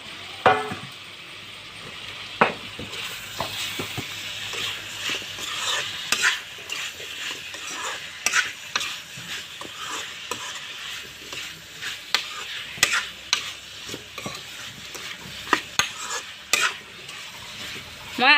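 Diced medium potatoes tipped into a hot pan for a spiced pork curry and stirred, steady sizzling frying under repeated scraping spoon strokes and occasional clinks against the pan, close and continuous.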